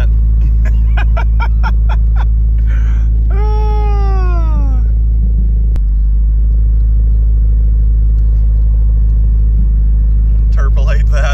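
A turbocharged Chevrolet Cruze engine, running on FuelTech FT550 tuning, roars with a loud, heavy low rumble that holds steady throughout, while a voice speaks over it now and then.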